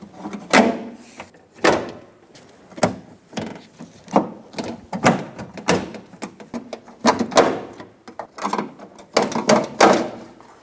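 Plastic push clips are pried and pulled one after another from the plastic door panel on the cargo door of a Ford E-350 van. Loud, close snaps and scraping pops come in an uneven series of about a dozen bursts, with no talking.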